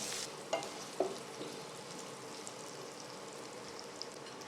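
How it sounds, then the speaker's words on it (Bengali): Potatoes frying in a pan with salt for a fish-head muri ghonto, a steady soft sizzle with a couple of brief stirring clinks near the start, faint and close, no voices. "আলুগুলো আমি ততক্ষণ ভেজে নেব যতক্ষণ না এটা হালকা বাদামি রঙের হচ্ছে"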